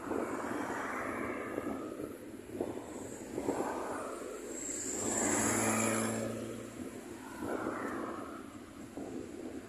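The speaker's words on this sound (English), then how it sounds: "Some of the planes taken off as well." Airplanes taking off at Grantley Adams airport in Barbados, a distant jet roar that swells and fades in broad waves over steady background noise, with no talking.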